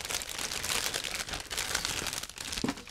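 A plastic bag holding parts of an ICM 1/48 B-26K Counter Invader model kit is opened, giving continuous close crinkling and rustling with a few sharper crackles near the end, with no talking.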